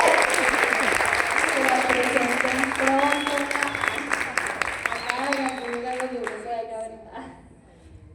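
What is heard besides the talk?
audience applause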